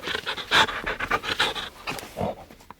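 Ralph the pet pup sniffing at a dish of peas, rapid close breathy sniffs and pants in quick bursts, fading at the end.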